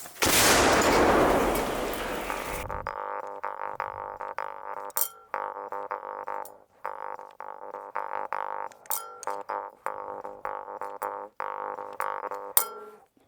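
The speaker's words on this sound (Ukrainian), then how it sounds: "Постріл! Постріл!" After a burst of noise, a long string of sharp, distant reports and cracks rings out at irregular intervals, gunfire echoing across open ground on the Kharkiv front line.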